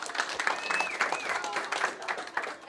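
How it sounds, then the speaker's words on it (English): Children clap and cheer for a deputy dog mascot, a lively scattered applause mixed with excited shouts and a few squeals. "Everybody clap for Deputy Dog!"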